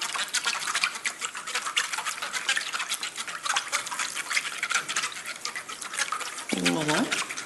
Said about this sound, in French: On mélange rapidement avec la baguette.